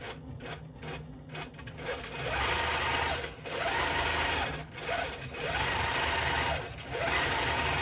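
A longarm quilting sewing machine driven by Pro Stitcher runs in a rapid steady stitching chatter, starting with a few short bursts and then settling into long sustained runs separated by brief pauses.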